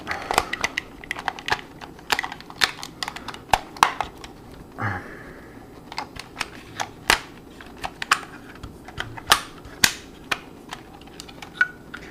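Small plastic parts of a Transformers Shattered Class Soundwave toy figure snapping and clicking into place during transformation, a quick irregular series of sharp close clicks and taps with no talking.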